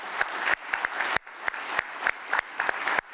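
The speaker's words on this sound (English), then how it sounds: "If we give Ray a round of applause" An audience at the AT&T Secure Connections 2024 event applauds Ray Kurzweil, a dense, steady round of clapping from a crowd filling the hall, with no voices over it.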